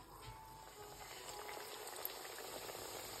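Egg-filled Mughlai paratha fries in hot oil with a faint, continuous bubbling hiss that stays even throughout, with no distinct stirring or clatter.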